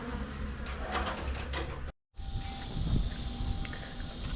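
Honey bees buzz at the entrance of a hive inside a garage ceiling, a dense continuous hum from many insects, broken by a brief cut partway through.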